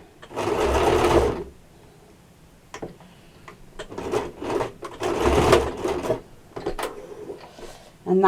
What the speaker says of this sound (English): And that is sewn into place.